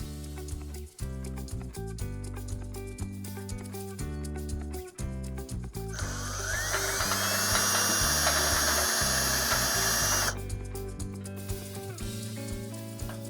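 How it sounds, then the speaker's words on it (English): A power drill boring a hole in a steel dump trailer, a loud whining grind lasting about four seconds in the middle, with steady background music playing before and after. "I remeasured, marked it again, and drilled a new hole the correct way."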